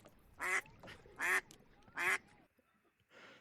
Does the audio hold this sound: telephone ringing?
no